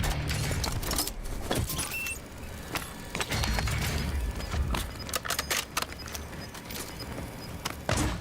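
A weapon magazine being swapped in Call of Duty Warzone, heard as a run of metallic clicks and rattles over constant game noise, with booming low rumble and sharp transients scattered throughout.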